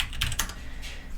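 Computer keyboard keys tapped to enter a password, a few quick close clicks in a short burst with a brief pause before one more press.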